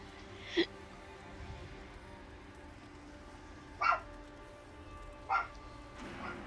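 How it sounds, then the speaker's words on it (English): A dog barks in the video game Dragon Age Inquisition, three short, sharp, fairly faint barks spaced a few seconds apart over quiet ambient game background. "What are you barking at?"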